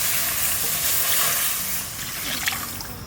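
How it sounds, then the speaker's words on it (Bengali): Milk is poured into a hot kadai for making winter pitha. A steady, fairly loud rushing hiss and sizzle fills the short stretch, with faint bubbling and a small clink near the end. "এখন কড়াইতে দিয়ে দেবো দুধ ডাল দিয়ে রেখেছিলাম সেই দুধ"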